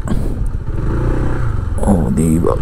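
A motorcycle engine runs steadily while riding along a road near the new Manila International Airport construction site in Bulacan, with people talking over it throughout.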